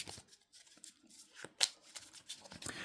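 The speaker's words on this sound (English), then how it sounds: "I'll just shuffle them now, actually, because I didn't shuffle them earlier." A deck of game cards for the Terminus Frontier board game is shuffled with several soft, quick papery riffles and flicks, faint and close, with no talking.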